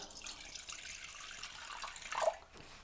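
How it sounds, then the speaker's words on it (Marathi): Water pours into a glass for a homemade herbal hair dye mixture, a soft continuous trickle that swells briefly near the end, quiet and close with no talking. "अर्धा ग्लास किंवा ग्लास भरून एक पाणी घ्यायचं आहे आपल्याला"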